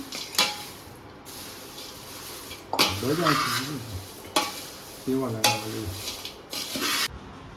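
Chivda frying in a pan with turmeric, oil and salt, stirred in bursts of scraping and clattering over a light sizzle, close up, with people talking between strokes.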